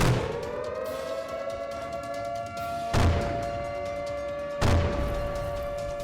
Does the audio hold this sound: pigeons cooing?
no